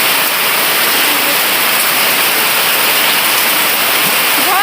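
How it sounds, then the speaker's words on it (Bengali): Heavy afternoon rain pours down in a steady, loud, unbroken hiss, like water drumming on surfaces nearby, with no clear voices over it. "বিকেলবেলাতে কেমন বৃষ্টি পড়ছে,"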